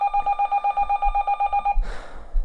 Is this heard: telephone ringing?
yes